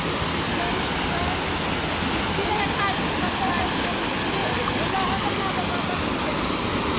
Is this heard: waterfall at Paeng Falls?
yes